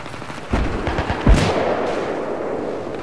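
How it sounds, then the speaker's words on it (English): Gunfire rattles in a video game battle on the Caspian Border map, rapid automatic bursts with heavier booming shots and a loud blast, near and continuous, no talk over it. "Oh, that's shooting from down the water."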